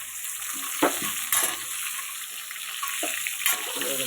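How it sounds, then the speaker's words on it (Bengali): Potato and pointed gourd pieces fry in oil, giving a steady hissing sizzle with a few soft stirring knocks and clinks on top. "তা আমি আগে আলুটা আর পটলটা ভেজে নিই"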